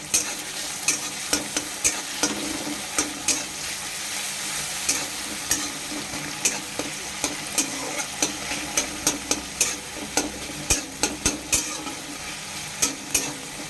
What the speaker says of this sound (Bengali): আজকে যেটা আমি করছি এটা একটু আমি কড়াইতে ভেজে নেব।